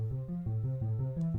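Diva software synth patch playing a short bassy pulsing sequence of low notes, moderately quiet and alone.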